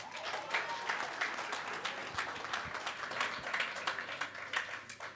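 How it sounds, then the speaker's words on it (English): Applause at a football club's sponsor announcement, heard as fairly faint, steady clapping with crisp individual claps over a low hum. "Another round of applause."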